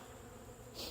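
Honeybees buzzing around a hive, a soft continuous drone with a brighter, nearer buzz swelling at the end as one bee passes close.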